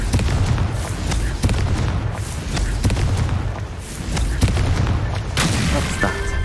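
Repeated booming blasts of the Confringo fire spell in Hogwarts Legacy, heavy thuds landing every second or so in a dense, rumbling battle din, loud and close, with a voice briefly audible.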